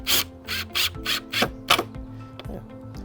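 A 2.5 inch wood screw is driven into the wooden frame of a DIY garden greenhouse, heard as a close series of short, gritty rubbing bursts in an uneven rhythm, about eight in three seconds.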